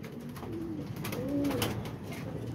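Thirteen pigeons coo softly in a few low, rolling calls, close by, over a faint background hum.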